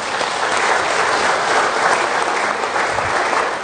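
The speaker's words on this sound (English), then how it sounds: "a big round of applause for these 2 folks" A round of applause from a seated audience at a bowling industry talk on programs for new bowlers; steady, even clapping throughout at a fairly loud level, with no voices over it.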